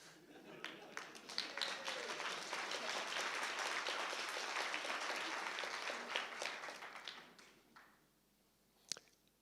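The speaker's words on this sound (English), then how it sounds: "Yeah, you guys can applaud that." Audience applause at a keynote talk on propositions as types, a burst of clapping that builds, holds for several seconds, then fades out, followed by a few faint isolated sounds.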